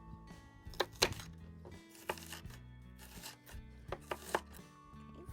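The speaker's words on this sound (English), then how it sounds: "We're going to chop up one small onion" A knife chops a small onion on a cutting board, giving sharp, close thunks in irregular short bursts and single strikes, with quiet pauses between them.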